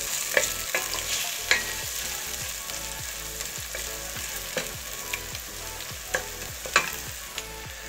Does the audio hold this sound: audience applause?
no